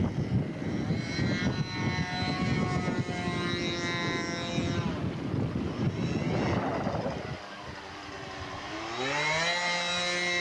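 Scale model aircraft performing loops at an air show in wind, its engine droning loudly and shifting pitch as it climbs and dives, then dropping briefly before a rising whine returns.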